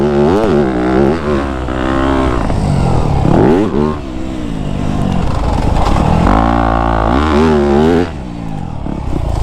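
A 2025 Yamaha YZ250F dirt bike rides a sand track in the woods, its engine droning loud and close with repeated revs rising and falling throughout, plus a little clatter.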